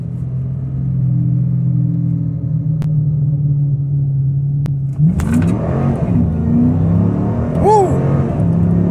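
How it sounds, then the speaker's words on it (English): Dodge Charger R/T idling with a low steady rumble, then the engine revs hard under heavy acceleration, pitch climbing through gear changes, loud and close from inside the car. "I'm gonna do another pull with harder acceleration"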